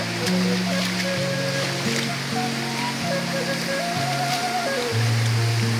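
Rain falls near Curug Panganten waterfall in a continuous broadband wash of water noise, with voices talking over it for most of the stretch.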